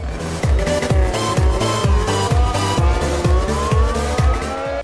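F1 race car braking in the rFactor racing game on the virtual Baku circuit, a loud engine roaring with rapid, rhythmic downshift pulses and tire squeal, close up and with no voices.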